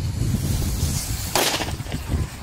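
A single small firecracker pops loudly once, about midway, against steady low outdoor rumble and wind, with no voices.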